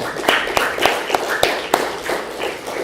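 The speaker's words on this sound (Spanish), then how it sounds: "Un aplauso para ellas." Applause for mothers during a church service: a few sharp, separate claps spaced roughly a quarter second apart over a low murmur of room noise, sounding close and fairly loud.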